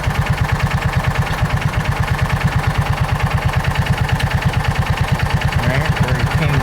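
A John Deere Gator 4x2 utility vehicle idling after a rough start, its small engine chugging in a steady, rapid rhythmic putter, close and loud, holding an even pace for several seconds.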